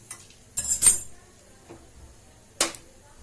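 Roasted coriander and cumin seeds transferred onto a plate, a few brief metallic clinks and scrapes of a utensil against cookware, close and quiet between them, with no talking.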